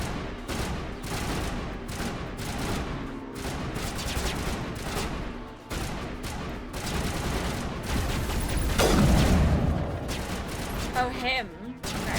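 Continuous rapid gunfire in the video game Mass Effect, rattling volleys throughout with a louder burst near the end and voices mixed in.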